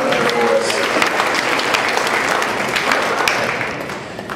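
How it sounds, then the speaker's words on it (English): Comedy club audience applauding for veterans, steady clapping from a crowd filling the room, sustained throughout at even loudness with a slight dip near the end. "give a round of applause for all our veterans out there"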